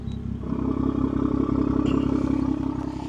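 Custom exhaust on a BMW 540i idles with its valves shut, producing a steady, muffled low burble with even pulsing and a faint rattle, close by and with no voices.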